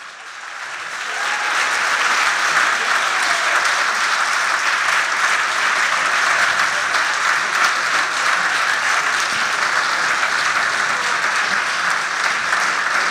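Audience applause for provincial election debate candidates in Huntingdon, a sustained dense round of clapping that swells in over the first two seconds and holds steady and full to the end.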